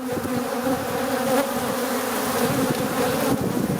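Honeybees and drones swarm around a beehive, filling the air with a dense, close, continuous buzzing hum that wavers slightly but never lets up.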